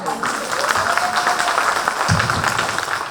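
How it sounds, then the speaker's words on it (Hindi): An audience at an inaugural function for special students claps in a steady, moderate wash of applause, heard at middling distance with faint voices underneath. "आपके लिए ताली बजाओ"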